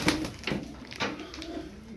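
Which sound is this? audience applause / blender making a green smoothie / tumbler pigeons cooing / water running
tumbler pigeons cooing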